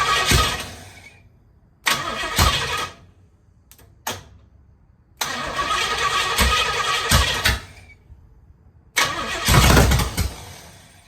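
1968 Pontiac Firebird engine cranking in several short bursts before catching, each attempt a loud starter grind and brief engine roar separated by silence, the last firing into a rough, louder run.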